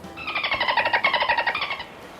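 A voice imitates a dolphin with a quick burst of high, squeaky chattering pulses lasting under two seconds.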